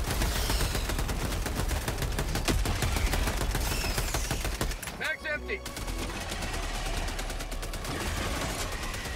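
A deployed machine sentry gun in Helldivers 2 fires long, rapid automatic streams amid heavy battle noise, with a brief lull near the middle before the loud firing resumes.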